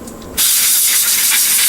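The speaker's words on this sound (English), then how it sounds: "spray off your hands with air." Compressed air sprays off hands and capsules in a steady, loud, close hiss that starts abruptly after a brief quieter moment and holds evenly to the end, with no voices.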